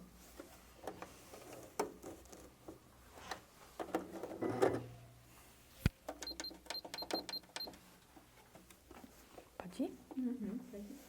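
A sewing machine runs a straight seam around the edge of a double wallet in short mechanical bursts, with a person talking over and between the stitching.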